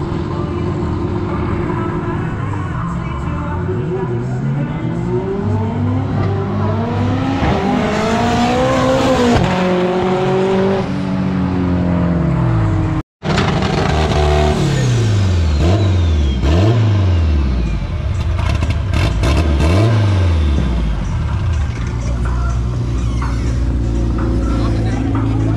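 Drag racing cars at the Tarumã strip launch and rev hard, their engines sweeping up and down through gear changes, with tire squeal and a burnout. The sound is loud and close, with a brief cut in the middle and an announcer talking over it.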